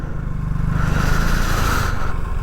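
A motorcycle rides along a road on a trip from Khammam toward the Medaram jatara. Its engine hums close and steady, with rushing wind noise throughout and no talking.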